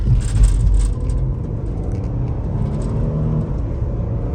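A 2017 Ford Interceptor Utility's engine rumbles steadily, loudest in the first second before settling into a continuous drone, heard from inside the vehicle on a hot day.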